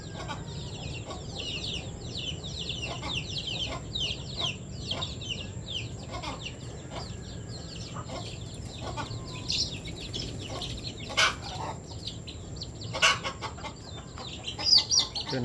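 Native chickens and Cornish bantams clucking in a flock, with frequent overlapping short clucks and chatter at moderate distance over a steady outdoor background, growing a little louder toward the end.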